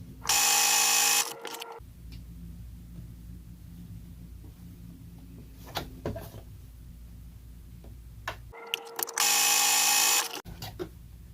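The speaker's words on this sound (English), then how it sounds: "we're just gonna sew down those little hems that we just made right now" A sewing machine stitches hems on a fabric mask in two loud bursts of rapid whirring, one at the start and one near the end, with quieter handling and rustling in between.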